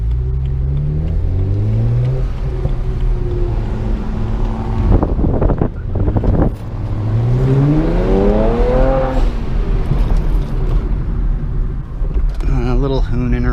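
A car with a dual-clutch transmission on Falken tires is driven hard, its engine revving up through the gears with rising pitch and brief dips between shifts. Steady wind and road noise run throughout, close and loud.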